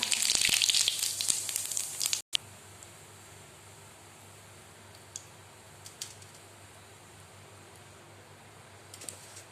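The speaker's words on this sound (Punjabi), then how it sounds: "ਆਪਣਾ ਤੇਲ ਗਰਮ ਹੋ ਗਿਆ ਹੁਣ ਆਪਾਂ ਇਸ ਵਿੱਚ ਪਾ ਦੇਣੇ ਇੱਕ ਚਮਚ ਜੀਰਾ" Cumin seeds hit hot oil with a loud burst of sizzling for about two seconds, then the frying settles into a soft, steady hiss with faint crackles.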